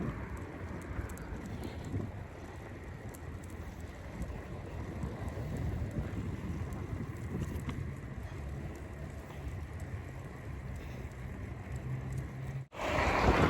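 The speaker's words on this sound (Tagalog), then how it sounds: "Nasasalubong ko yung hangin" Wind buffets the microphone in a continuous low rumble while cycling outdoors, swelling and easing, ending in a sharp thump.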